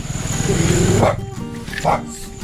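A dog barks a couple of times nearby amid a noisy background, with someone talking over the commotion.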